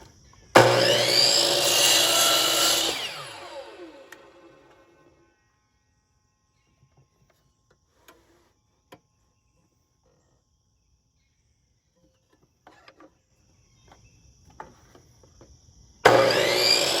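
A power saw cuts glued wood boards into strips for a bowl in two loud bursts, one near the start that winds down over a few seconds and another at the very end, with near silence and faint clicks between.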